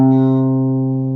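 A major-scale sixth interval sounds as one short, sustained pair of notes, clear and steady, fading slightly over about a second.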